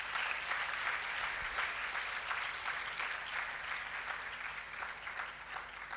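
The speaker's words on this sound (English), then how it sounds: "Please join me in giving another warm applause to Professor Ibok Oduro." A conference audience at a women-in-STEM event in Africa gives sustained applause for Professor Ibok Oduro. The clapping is faint and distant, a continuous even patter with no talking over it.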